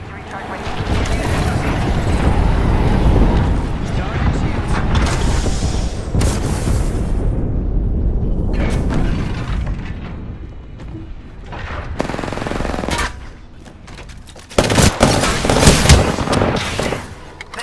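Gunfire from an enemy squad in Apex Legends: dense, loud bursts of automatic fire and booming impacts almost continuously, with a brief lull and then a sharp renewed volley near the end.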